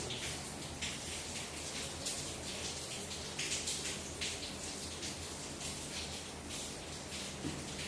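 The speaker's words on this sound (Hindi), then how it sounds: "यहाँ पर तो बारिश हो रही" Rain falls outside during a classroom lesson, a steady, diffuse hiss with faint patters that holds at an even, low level throughout, with no talk over it.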